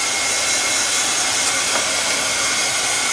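A hair dryer blows on wet paint, giving a loud, continuous, even airy roar that holds steady throughout with no speech.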